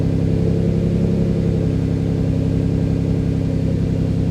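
A twin turbo Ford Capri engine idles high nearby, a steady even mid-pitched drone with a faint pulsing rhythm and no talk over it.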